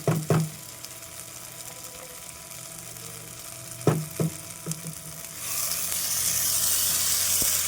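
Water poured into a hot pan of garlic, ginger, shallots, turmeric and chili powder, with a few sharp clinks early on and later a loud, steady hiss and sizzle that builds and holds to the end.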